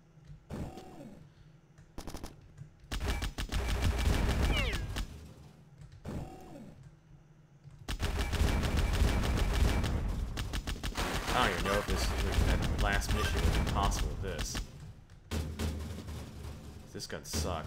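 Rapid, mechanical gun bursts from a weapon in the video game Bad Bots, rattling loudly in several long stretches separated by short pauses, with someone talking over and between them.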